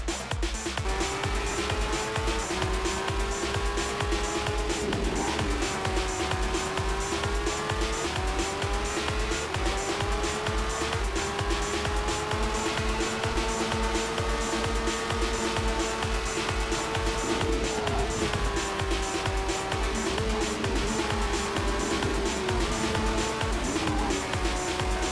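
A race car drives around a track in the Monoposto racing video game, its engine droning loud and constant with rising and falling pitch through gear changes and intermittent tire squeal, lasting about twenty-five seconds.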